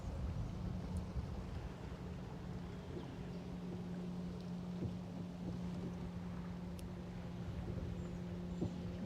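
Steady wind buffets a fishing boat out on Smith Lake, a constant broad rush with a low steady hum underneath, moderately loud and unbroken, with no talking.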